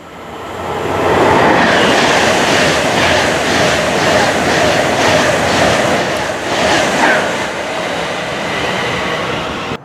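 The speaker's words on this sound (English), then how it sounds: "The trains that are running on the Marston Vale Line are actually the Class 150 diesel multiple units" A Class 150 diesel multiple unit at Bletchley station, a loud, sustained rumble of the train close by with rhythmic wheel clatter running through the whole stretch.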